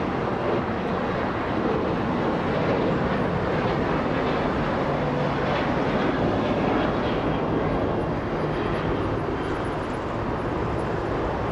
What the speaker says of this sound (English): Let's go take a look at Southwest, leaving 25 right.